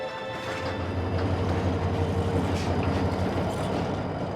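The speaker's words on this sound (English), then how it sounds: "even this train and the track it rides on lie at the heart of my story" A train rolls along railway tracks in Africa, a steady close rumble with a low drone and faint metallic rattles that hold evenly throughout, with no voices.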